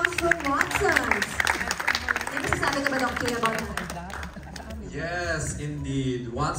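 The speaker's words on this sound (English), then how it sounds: "Let's give it a round of applause for Watson's." Audience applause at a lively Watsons vaccine education event in Manila, a broad wash of clapping running under loud, excited voices and cheering for the whole stretch.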